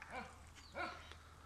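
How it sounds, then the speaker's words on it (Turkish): Two sharp dog barks ring out at a village dog shelter that houses many dogs, with a short quiet gap between them and a faint third yelp, in a fairly open space. "Burada 82 tane köpeğimiz var."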